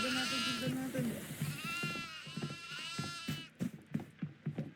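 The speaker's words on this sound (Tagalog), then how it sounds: "Ang daming kambing." Goats bleat repeatedly in the horror video game Devour, wavering calls layered over one another, followed by a series of short sharp thuds, while a person talks at times.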